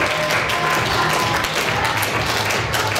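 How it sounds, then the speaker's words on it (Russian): Audience applause at a primary school graduation ceremony, a dense steady wash of many hands clapping continuously, moderately loud and fairly close. "Благодарим родителей еще раз бурными аплодисментами."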